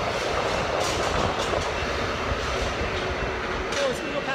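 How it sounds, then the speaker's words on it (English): Train passing close by during a commute, a loud continuous rumble with clattering wheels and brief high squeals, and voices talking over it. "Yeah, that's a train."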